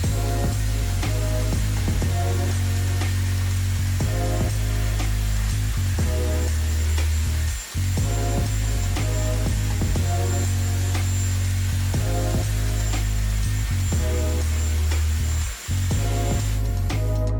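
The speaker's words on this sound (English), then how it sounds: "So this attachment is the actual hairdryer." A Dyson Airwrap hairdryer attachment blows steadily at close range while drying hair, a loud continuous motor whine and airflow with two brief dips where the flow is interrupted.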